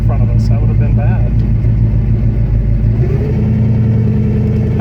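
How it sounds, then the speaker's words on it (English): A neglected 351W Mustang idles loudly while its worn Ford power steering pump adds a whining, gear-like drone, the engine note shifting partway through. "just classic Ford power steering pump sounds."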